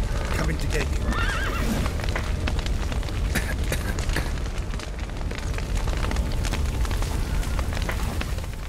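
Horses in The Witcher 3 whinny and clatter with hooves amid loud crackling fire and rumbling booms from a burning building, with voices shouting over the chaos.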